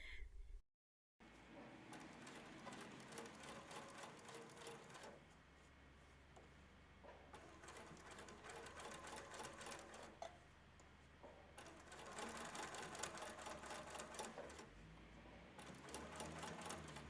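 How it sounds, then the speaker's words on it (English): A sewing machine runs close up, stitching Lycra swimwear in steady, fast, buzzing runs that stop and restart several times, with one brief silent gap near the start. "try and sew exactly over the beginning stitches"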